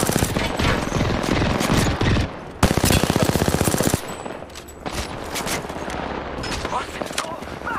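Rapid automatic weapon fire in the battle royale shooter Apex Legends, loud close bursts of gunshots and a sustained fast volley, then quieter scattered shots over game ambience.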